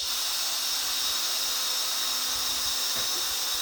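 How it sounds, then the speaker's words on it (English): A power drill whines steadily and loudly throughout, drilling holes through two urethane boat skids held back to back, a continuous high-pitched grinding hiss close by. "Drill them both."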